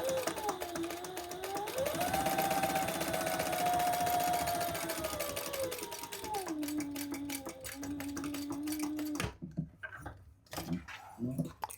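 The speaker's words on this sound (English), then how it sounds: "we're going to stitch across that bottom line at just 1/8 of an inch" A sewing machine hums and whirs as it runs a line of stitching across the bottom of a small foam-pocket wallet, the motor pitch rising and falling with speed before stopping into a few clicks and handling noises.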